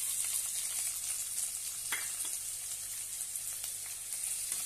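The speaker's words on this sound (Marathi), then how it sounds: "एक कांदा बारीक कट केलेला आहे तो घालूया।" Chopped onion goes into hot oil with mustard seeds and cumin and sizzles steadily. The frying hiss is close and even and carries on without speech, with a faint stir or scrape partway through.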